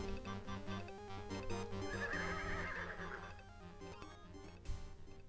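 A horse whinnies in King's Quest 6, a high neigh rising over steady background game music and effects, with a sharp thud near the end.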